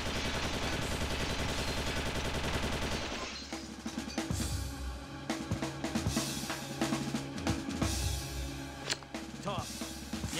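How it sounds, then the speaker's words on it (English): Machine-gun fire and scattered gunshots in the shooter game XIII, coming in dense bursts after a musical opening and continuing as loud, irregular volleys over a game soundtrack. "gunshots come flying out of nowhere and the lifeguard gets murdered"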